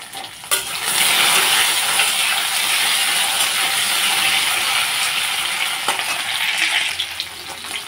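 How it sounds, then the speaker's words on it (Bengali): Taro and potatoes frying in a pan give a steady, loud sizzle that holds for several seconds, with a few stirring clatters and no voices. "কচু আর আলু আমি 2-3 মিনিটের মতো ভেজে নিলাম"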